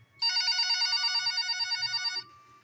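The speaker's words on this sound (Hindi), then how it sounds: "तभी तीसरी बार घंटी बजी।" A telephone bell rings at night in a quiet room, a steady rapid trilling ring lasting about two seconds and then stopping, clear and fairly close, with no talk over it.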